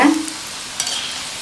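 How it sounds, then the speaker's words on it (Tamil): Rava pakoda frying in hot oil and being stirred, with a short scrape at the start followed by a steady soft sizzle close by, no talking. "இந்த மாதிரி அப்பப்போ பரட்டி பரட்டி விடுங்க."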